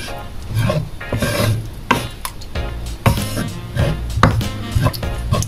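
A spoon stirs shrimp in a cream sauce in a pan, making repeated close scraping and rubbing strokes in an uneven rhythm, with occasional sharper knocks against the pan.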